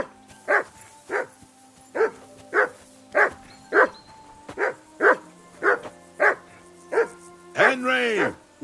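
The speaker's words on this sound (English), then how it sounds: "Whistle at that mutt of yours to stop barking." A dog barks in the game Kingdom Come Deliverance II, about a dozen evenly spaced barks at a moderate distance, ending in a louder, drawn-out bark, with a voice speaking around them.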